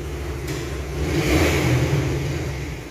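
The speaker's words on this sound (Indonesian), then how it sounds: "Maaf ada suara motor ya." A motorcycle engine revs close by, its rumble swelling to a peak around the middle and then easing back down, heard alone without any talking.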